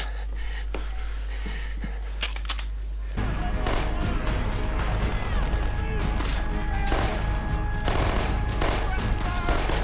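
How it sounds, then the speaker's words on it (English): Television gunfire from The Walking Dead, rapid bursts of shots and crashes under dramatic sound, with a few isolated cracks before a louder, sustained volley and brief voices. "I'm gonna lay down some cover fire."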